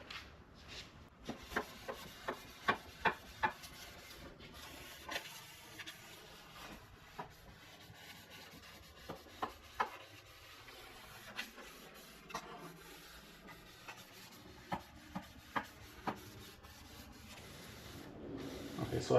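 Sandpaper rubbed by hand across a surface to smooth the finish, a soft, steady scraping close by with a few sharper ticks scattered through, fairly quiet and with no talk.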